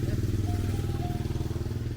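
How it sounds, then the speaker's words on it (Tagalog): A motorbike engine idles and putters close by in a steady, throbbing rhythm beside a riverside fishing spot in Saigon, with voices murmuring faintly underneath. "Ganda ng motor ni kuya."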